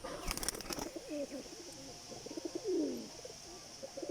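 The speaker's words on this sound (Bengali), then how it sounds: "পায়রাটা" A pigeon coos softly a few times, its low throaty calls faint against a quiet background with some brief rustling near the start.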